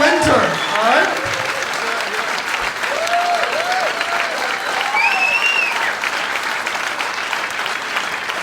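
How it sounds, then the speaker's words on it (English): An audience at a stand-up comedy show breaks into loud, sustained applause and cheering, with a voice speaking briefly over the clapping at the start. "big round of applause"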